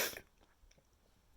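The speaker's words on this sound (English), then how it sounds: "sorry if I'm coughing" A single sharp cough from someone who is sick, close and fairly loud at the start, then fading into quiet room noise.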